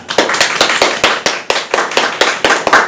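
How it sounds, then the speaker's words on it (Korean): Audience clapping in a lecture hall at the opening of a training session on social enterprise, a steady burst of many hands applauding together, fairly loud and close, with no talking over it. "언제나 그랬듯 큰 박수와 함께 시작해 보도록 하겠습니다."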